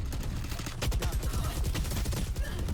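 Rapid gunfire from a Spectre submachine gun in a Valorant match on the Ascent map, with dense bursts of shots and game effects running loud and continuous throughout.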